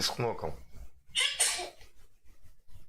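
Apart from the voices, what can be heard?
sneeze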